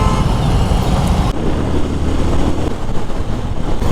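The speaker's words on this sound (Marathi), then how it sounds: "Traffic, ultimate traffic." Busy roadway traffic with many two-wheelers held up, a steady loud rumble of engines and road noise filling the whole stretch, with a brief shift in texture partway through.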